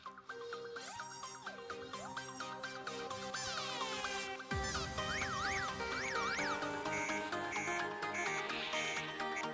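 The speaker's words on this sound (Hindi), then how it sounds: "इसके रिंगटोन्स ऐसे वैसे भी नहीं, बहुत लाउड रिंगटोन्स हैं। जैसे एक प्ले करके बताता हूँ आपको।" Loud alarm ringtone from a phone alarm clock app plays on its own: a bright, continuous electronic melody of chiming tones with rising and falling swoops, layered and shifting partway through, steady and full throughout.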